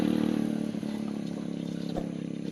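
A water pump motor runs steadily with a continuous mechanical drone and slight clatter, close by and unchanging, with no voices.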